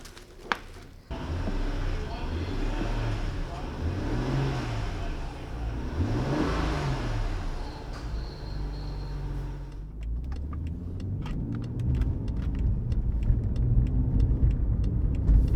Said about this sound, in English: So time to change the battery and go drive it.